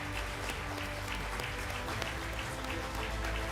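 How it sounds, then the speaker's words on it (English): Applause for the company owners at a 30th-anniversary celebration: a thick, continuous roar of many hands clapping together, steady and fairly loud throughout, with a low room rumble beneath it. "I think they deserve the maximum applause."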